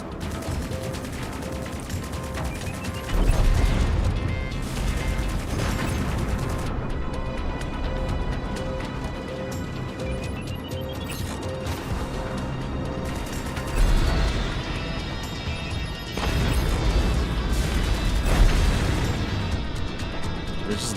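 Rockets explode in space combat in Strike Suit Zero, giving repeated heavy booms and bursts over a dense bed of weapon fire and electronic tones.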